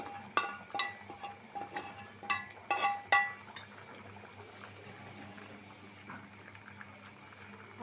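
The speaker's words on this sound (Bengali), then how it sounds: "তরকারি বলক এসে গেছে" A thin curry of gourd, tomato and potato boils in a pot, with faint, irregular bubbling pops and gurgles, a few sharper bursts early on, then a quieter simmer.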